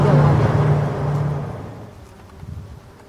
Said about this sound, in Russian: Вот это жужжание настолько успокаивает, дарит позитив.